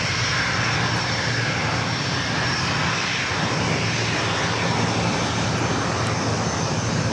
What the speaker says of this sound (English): This is a Bombardier Global 5000.